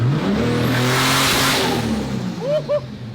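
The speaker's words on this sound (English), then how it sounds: "You can just press this button down and wide open throttle, and it'll two-step for you." A 2JZ-swapped Nissan S14 making about 500 hp, held on two-step launch control at wide open throttle, roars steadily and loudly up close before cutting off into a few sharp popping bangs.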